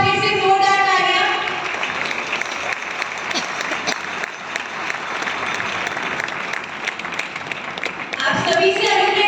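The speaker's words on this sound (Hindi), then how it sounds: "एक बार फिर से जोरदार तालियां।" A crowd at an Ayurveda Kumbh event at Prem Nagar Ashram in Haridwar bursts into loud, sustained applause, many hands clapping densely, with a voice speaking over the start and again as the clapping ends.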